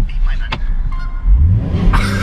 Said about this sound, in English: Should I just start revving my engine at him?